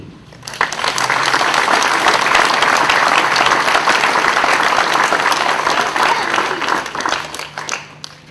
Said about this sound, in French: et M. Jacques Corte, que je vous demande d'applaudir.